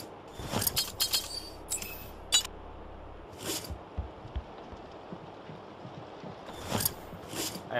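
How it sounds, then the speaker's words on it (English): A machine gun is equipped in the horror video game Fobia, giving a series of small metallic clicks, clinks and ratcheting handling noises, faint and spread out with no talking. "I'm taking my machine gun back out."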